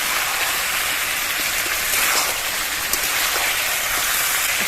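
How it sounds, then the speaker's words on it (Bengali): Steady hiss of marinated chicken sizzling as it is sautéed in a pan, continuous and close, with faint pops and no talk. "মাংসটা মিডিয়াম আছে প্রথমে আগে 4-5 মিনিট কষিয়ে নেব"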